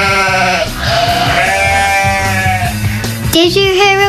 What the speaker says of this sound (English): Can you guess what kind of animal baas like that? That's right, a sheep.